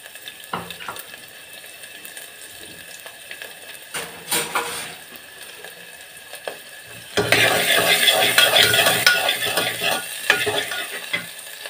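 Onions hitting hot oil burst into a loud, steady sizzle partway through, following quieter clinks and stirring in a home kitchen; the frying hiss stays dense and close to the end.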